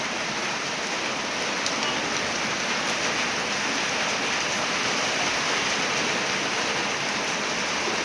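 Rain pours down with wind during a storm in Buldhana district, a dense, steady hiss of drops on surfaces filling the whole stretch evenly with no voices.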